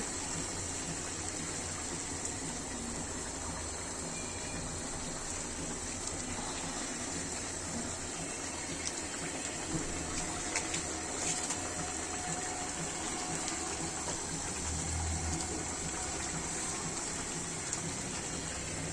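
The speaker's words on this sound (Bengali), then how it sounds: "এদিকে চুলা গরম পানি করতে দিচ্ছি" Water pours into a cooking pot set on a stove to heat while chicken curry is made, a steady broadband rush running the whole stretch at moderate level with no talk.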